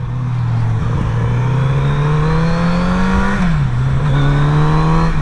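A Kawasaki Z900RS inline-four motorcycle pulls hard under acceleration, its loud, smooth engine note climbing steadily close by with a brief dip as it shifts, then rising again.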